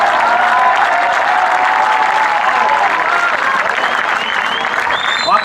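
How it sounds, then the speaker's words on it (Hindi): Audience at a Hindi comedic poetry recital bursts into sustained, loud applause lasting several seconds, a dense wash of clapping with some crowd noise mixed in. "एक बार तालियां बजा दे मित्रों"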